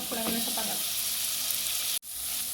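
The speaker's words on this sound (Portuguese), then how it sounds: "Agora tô dando uma refogada com os temperos que eu já tinha colocado antes." Chicken sautés with seasonings in a pan, giving a loud, steady sizzle and frying hiss that cuts off abruptly near the end and then resumes.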